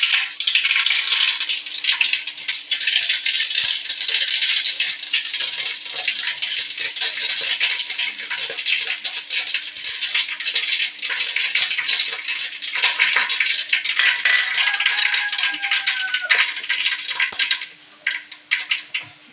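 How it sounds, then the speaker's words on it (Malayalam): Mustard seeds popping in hot coconut oil, a dense continuous crackle and spatter close up, with a faint tonal ring partway through and no speech. "എണ്ണ ചൂടായി നമ്മൾ കടുകിടണം."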